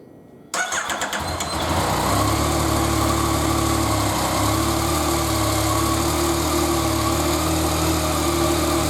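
A 2014 Yamaha FZ09 motorcycle fitted with a LiFePO4 battery cranks and fires abruptly after a short pause, then settles into a steady, loud, close idle with a constant low hum. No one speaks.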